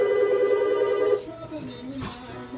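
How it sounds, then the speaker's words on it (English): A telephone ringing with a steady electronic tone that stops partway through, followed by quieter room sounds and faint voices. "somebody's calling? Do we answer the phone here?"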